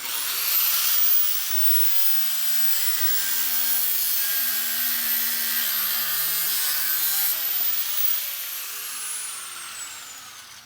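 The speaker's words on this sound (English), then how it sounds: "We've got these just little fender clips on the side that we got to cut through, so we're going to do those next real quick." A power cutting tool grinds steadily through plastic fender clips on a 2014-or-later Toyota 4Runner front bumper, a loud, continuous high whine and hiss lasting about eight seconds before winding down, up close with no talk.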